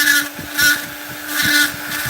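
Rotary tool fitted with coarse burrs carving deep into wood for a fairy house, a steady high motor whine with rough grinding surges as the burr bites, close and loud.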